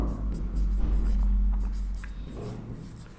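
A marker or chalk scratches across a board in short strokes beneath a low steady background hum, close and moderately loud.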